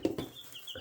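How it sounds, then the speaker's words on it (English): Baby chickens make a few soft, quick clucks and peeps close by, faint and brief with short gaps between them. "They're hiding around there, baby chickens."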